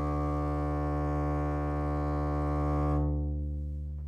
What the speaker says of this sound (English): We can make long, sustained sounds like this.